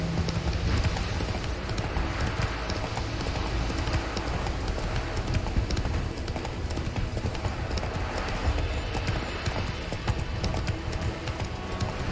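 Roach the horse galloping in The Witcher 3, with loud, rapid hoofbeats pounding in a continuous driving rhythm close up, over a dense bed of game ambience.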